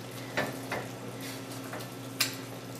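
Caramelizing onions with salt cook in a pot, giving a soft steady sizzle and faint hum, while a spoon scrapes and clicks against the pot a few times at irregular intervals.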